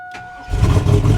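A Kubota engine on a rotted, neglected machine cold-starts after two weeks of sitting, with a brief cranking lead-in before it catches and settles into a loud, steady running rumble.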